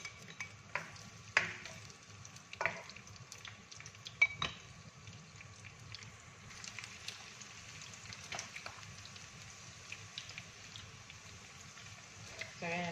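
Onion and garlic frying in oil make a quiet crackling sizzle with scattered sharp ticks and spatula scrapes against the pan, fairly faint and continuous.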